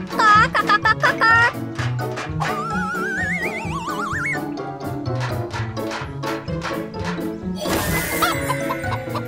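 A cartoon chicken clucks in short bursts over busy music and effects, with a rising whistling sweep in the middle and a bright crash near the end.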